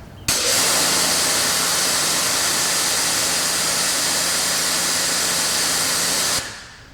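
An Adam's Pro Series electric pressure washer runs steadily with the trigger held for car detailing, a loud continuous hissing spray with motor hum that starts abruptly and cuts off sharply several seconds later.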